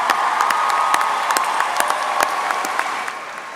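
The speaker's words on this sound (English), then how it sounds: "Let's give our faculty a round of applause" A crowd at a spring commencement ceremony claps for the faculty, brisk dense applause with sharp individual claps standing out, steady and then easing slightly toward the end.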